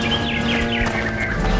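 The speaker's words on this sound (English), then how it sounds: "Listen to the birds sing." Birdsong chirps over a low-poly game forest, used as the sound cue for a character collapsing from hunger; a steady layer of bright, repeating tweets and calls rides over a low, full ambient bed throughout.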